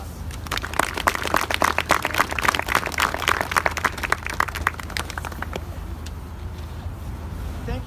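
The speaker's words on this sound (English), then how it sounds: "I'd like to give him a round of applause." An outdoor audience applauds at a street sign unveiling, a steady crowd clapping that fades toward the end, with faint traffic-like background noise.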